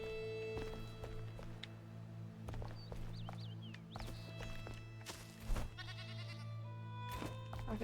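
A goat in the video game Enshrouded gives a few short bleats over a steady ambient music drone, with soft footsteps and clicks around it.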